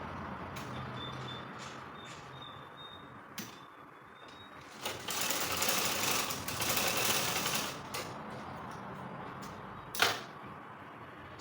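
A sewing machine stitches bias binding together for a triangular bubu top, its motor whirring in quiet short runs and then one sustained burst of stitching, with a sharp click near the end.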